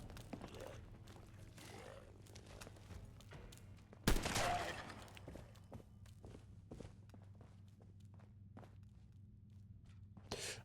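Single loud battle rifle shot in the video game Fallout: London, a sharp burst followed by a brief decaying tail over quiet ambient game noise and footsteps.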